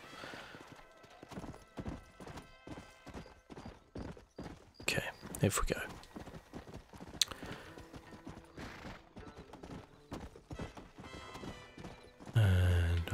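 Horse hooves clip-clopping in the Red Dead Redemption video game, a steady rhythmic trot of sharp knocks at moderate level, with a soft-spoken voice briefly talking over it and a louder game sound near the end.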